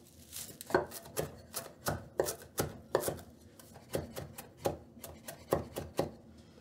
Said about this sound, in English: Just going to give them a quick mince.